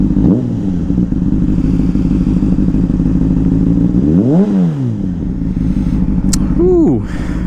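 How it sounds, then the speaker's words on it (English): A 2006 Honda CBR600RR sport motorcycle engine idles loudly and is blipped twice, each rev sweeping up in pitch and falling back, the second one shorter. "Give it some baby revs"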